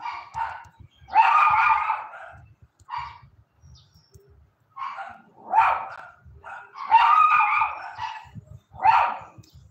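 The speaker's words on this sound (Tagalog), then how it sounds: "Maingay yung aso ko, guys." A pet dog barks repeatedly indoors, loud clustered bursts of barks repeating over several seconds with short pauses between them.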